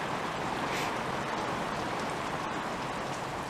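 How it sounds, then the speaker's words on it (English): Rain falls steadily in the desert, a dense, even hiss of drops hitting the ground and nearby surfaces, close and continuous with no talking. "So we needed this rain."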